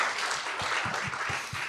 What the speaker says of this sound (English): Another applause line for those of